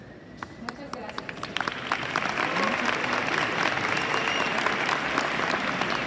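An audience at a Model UN question-and-answer session breaks into applause, starting with scattered individual claps that swell into a sustained, dense round, with some voices underneath.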